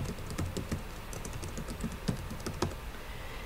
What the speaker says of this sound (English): we are going to type in monthly estimates